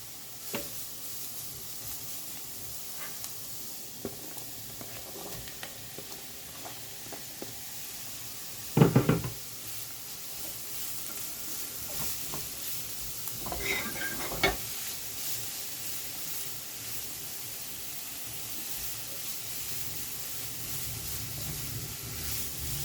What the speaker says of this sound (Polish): dołożymy teraz marchewkę i ziemniaki. I smażymy kolejne dwie minuty